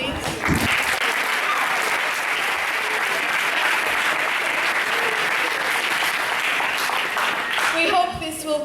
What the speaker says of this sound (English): And a round of applause to Beatriz, Mariana, Maya, and Gonçalo